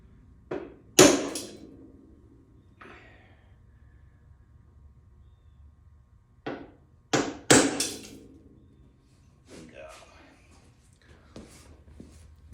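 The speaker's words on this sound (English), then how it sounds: "Just gonna take your little center punch thing there." A center punch struck with a hammer against metal, a few sharp metallic knocks spread unevenly across the stretch, close and fairly loud, with quieter handling noises and faint talk between strikes.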